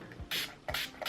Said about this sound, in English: you're going to want to spray the Beauty Blender